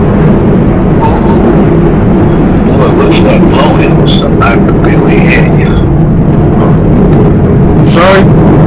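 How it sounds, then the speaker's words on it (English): A plane flies over near an air station in Beaufort, South Carolina, a loud, continuous roaring rumble that dominates the whole stretch while a person talks underneath. "it's a plane flying over."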